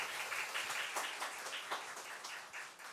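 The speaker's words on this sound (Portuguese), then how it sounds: "eu peço uma salva de palmas para a vereadora Elza" Applause from an audience at a municipal council session in Osasco, steady dense clapping at moderate volume from a fairly distant crowd, without a break.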